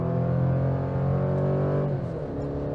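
Four-cylinder turbo engine of a GMC Canyon Denali pickup pulling hard from a brake-torqued launch, a steady loud drone that rises in pitch and then shifts as it upshifts near the end, heard from inside the cab with no talking.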